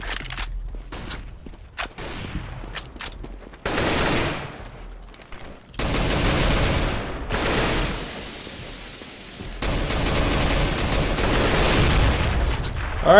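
A flashbang grenade and gunfire in a CS:GO competitive match: scattered sharp shots, then a loud burst and stretches of heavy, sustained firing and blasts.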